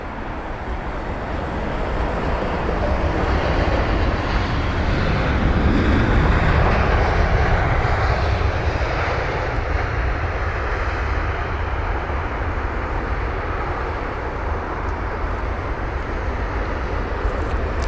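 A Boeing 787 in Emirates special livery takes off at London Heathrow, a broad, loud, steady jet roar that holds throughout with no talking.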